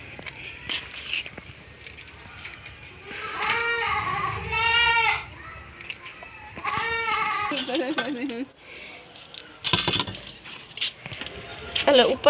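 Goats bleat repeatedly in wavering, nasal calls at close range, with people talking among them outdoors and footsteps and rustling in between.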